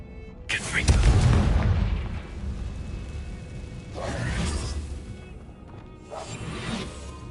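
A Confringo blasting spell from Hogwarts Legacy goes off with a loud booming crash and whoosh that rumbles for about a second, followed by two fainter blasts later.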